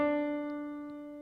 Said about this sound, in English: Okay, so tone sounds like this.